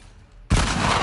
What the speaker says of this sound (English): Freaking people and your shotguns.